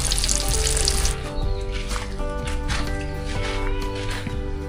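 Food sizzles and bubbles in a pot as it is boiled and fried outdoors, with a burst of hissing at the start settling into steady frying, close by and with no talking.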